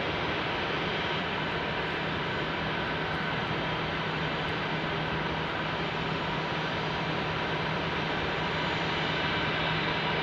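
Engines of an American Airlines Airbus A319 jetliner heading for Phoenix at Salt Lake City airport give a continuous, even roar with a steady low drone, unchanging over ten seconds and free of voices.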